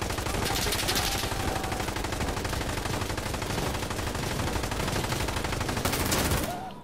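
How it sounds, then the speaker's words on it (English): Sustained automatic gunfire from the tactical shooter game Insurgency Sandstorm, loud and dense for nearly seven seconds with rapid overlapping shots and explosions, ending abruptly. "Why are you shooting Jack?"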